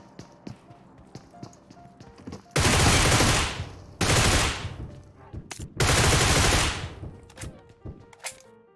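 Groza rifle bursts in PUBG Mobile, three loud sustained volleys of rapid automatic fire, each about a second long, separated by short gaps filled with quieter clicks and taps.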